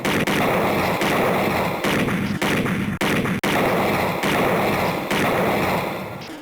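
Gunshots ring out in a shooting section of the 1994 Sega CD game Snatcher as a steady run of loud, evenly spaced blasts and thuds, dense and continuous for about six seconds before tapering off.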